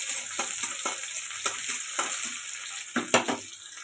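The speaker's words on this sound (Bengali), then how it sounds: "ঝিরি ঝিরি করে কেটে রাখা পেঁয়াজ, ভালো করে পেঁয়াজটাকে ভাজতে থাকবো" Sliced onions fry in a pan with a steady close sizzle, broken by several sharp stirring scrapes and clatters, no voices.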